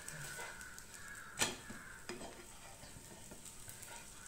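Adai dosa frying on a hot pan, a soft steady sizzle throughout with a brief scraping clatter as the pan or spatula is touched, quiet and close.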